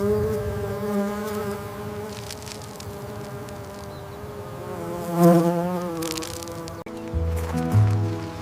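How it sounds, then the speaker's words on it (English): Mason bees buzz softly after release in an orchard of cherry trees in the desert, a faint, wavering insect drone that rises and fades with a few louder passes near the end. "The release of the mason bees signals a new chapter."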